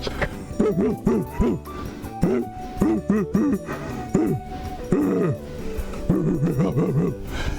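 Repeated dog barks from a small-sounding dog, about a dozen sharp yips in bursts and clusters, fairly close and loud over a busy background, as a game-stream outro plays.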